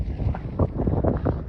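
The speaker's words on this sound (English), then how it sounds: "getting windy." Gusty wind rushes and buffets across the microphone on an open hillside by a wind farm, a steady low roar with brief louder swells.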